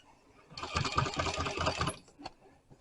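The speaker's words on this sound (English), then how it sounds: "See how as I'm sewing, underneath there's these feed dogs that go like this, and they pull everything forward" A sewing machine runs steadily for about a second and a half, stitching a zipper onto a marine upholstery enclosure, a close rapid mechanical chatter that stops abruptly, then a small click.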